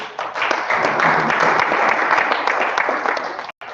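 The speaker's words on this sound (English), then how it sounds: "Please clap." Audience gives loud, sustained applause at a conference, a thick, even roar of clapping that drops out briefly near the end before resuming.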